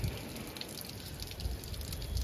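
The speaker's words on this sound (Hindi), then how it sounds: "एक एक पत्ता में पानी दे देते" Water being poured over the leaves of a plant at home, a steady close splashing and dripping trickle that runs through the whole short moment with no talk over it.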